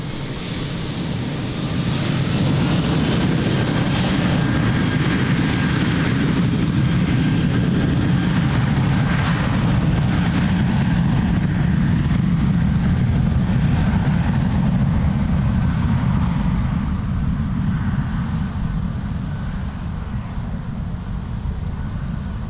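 United airliner taking off at Lisbon Airport: a loud, steady jet roar rises sharply and holds as a broad rumble with a thin whine fading after the start, continuous for over twenty seconds, no voices.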